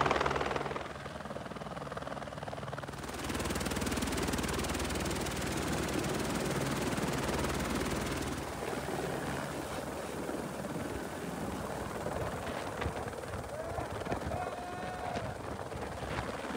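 Helicopter carrying riders on a mountain bike heli drop in British Columbia, a loud steady rotor thump and turbine roar throughout that shifts partway as if from inside the cabin.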